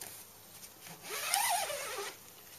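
A zipper on a canvas camping tent door being pulled open, one brief close zipping rasp that swells and fades in a quiet space.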